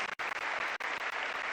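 Audience applause at a formal ceremony, a short burst of brisk clapping heard from a distance with a couple of brief dropouts.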